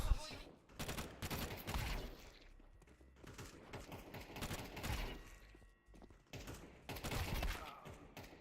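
Rapid automatic gunfire from a FAMAS rifle in the video game PUBG comes in several sustained bursts, dense and punchy, with only short gaps between them and no talking.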